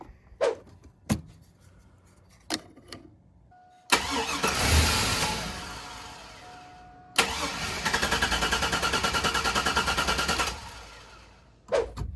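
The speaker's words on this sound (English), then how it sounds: "So we'll crank the engine. That fuel pump's not going to be on." A 2002 GMC Sierra truck engine cranks without catching, fuel pump disabled: sharp clicks and short bursts first, then two long loud stretches of rapid rhythmic starter churning, close and clear, with no speech.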